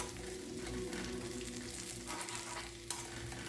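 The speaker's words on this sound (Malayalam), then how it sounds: "ഫ്ലെയിം കുറച്ച് വെച്ച് പതുക്കെ ഇളക്കി ഇളക്കി ഇളക്കി നമുക്ക് മൂപ്പിച്ചെടുക്കാം" Onions sizzle softly in a pan on low flame while being stirred for ginger curry, with quiet scraping and a faint steady frying hiss, ending in a brief clatter.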